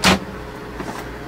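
A car's electric power window raises the glass in a short motor whir, opening with a loud burst and then a quieter steady hum running to the end.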